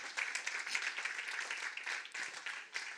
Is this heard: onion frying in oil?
no